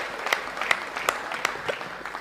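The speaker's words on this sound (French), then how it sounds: "je vous prie d'applaudir très fort pour cet homme vaillant" Scattered, sparse clapping at a wedding reception comes as a few distinct, evenly spaced claps at moderate distance, fairly quiet, with faint voices in the background.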